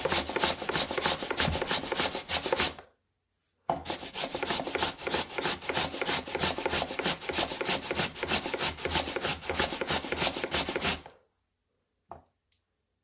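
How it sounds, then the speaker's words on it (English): Sweet potato rubbed hard against a grater in fast, even rasping strokes, close and loud, running continuously with one short pause and then a few last scrapes at the end. "So you're just going to go ahead and grate until you have the desired amount."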